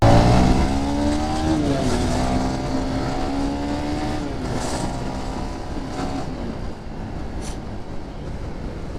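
A Supra GTR 150 motorcycle engine revs and accelerates hard through several gear changes, its whining pitch climbing and dropping in steps, loud and close with steady wind rush throughout.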